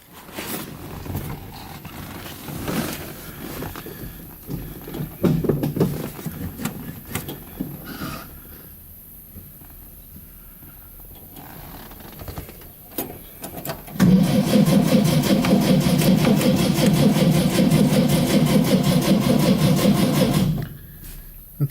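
A 1958 VW Beetle engine with a carbureted fuel system cranks in several uneven bursts with pauses between them, then catches and runs at a steady, loud, close idle before cutting off.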